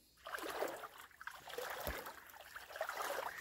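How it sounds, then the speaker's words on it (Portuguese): A small shallow stream in natural woodland trickling and babbling continuously, soft and fairly close, with a brief low thump partway through. "Riozinho de pouca água."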